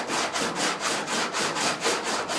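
Close, rhythmic rasping strokes of a Dura-Block sanding block rubbed back and forth over car bodywork, about four even passes per second, loud and steady with no voices.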